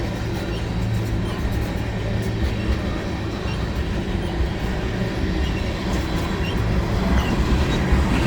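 A CN freight train hauled by six locomotives rolls past at St. Lambert, its steady loud rumble and rail clatter continuing without a break from start to end, with faint wheel squeal and no voices.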